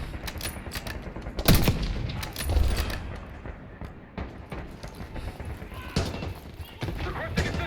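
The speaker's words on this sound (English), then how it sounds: "We're taking heavy fire from the helo." Heavy gunfire from a helicopter in the video game Call of Duty Black Ops 6, a dense clatter of shots with a couple of loud booming bursts among battle noise and voices.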